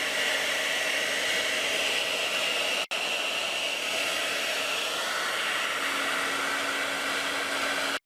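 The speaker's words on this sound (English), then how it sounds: "So that's just a standard blow dryer, and it should generate some noise that this thing will pick up." A standard handheld blow dryer runs steadily and loudly with a broad, constant airy roar, with a momentary cutout near the three-second mark, and no talking.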